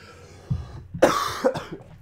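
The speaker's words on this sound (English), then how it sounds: "I go into a coughing fit for some reason" A short coughing fit: one soft throat sound, then two or three harsh, close coughs in quick succession that fade out over about a second, with no talk.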